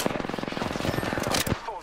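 Rapid automatic gunfire in the Apex Legends video game, a fast loud burst of shots followed by a few heavier reports.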